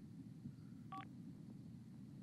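A mobile phone keypad pressed inside the SimCity 5 game gives one brief, faint electronic tone burst over a steady low hum, otherwise quiet.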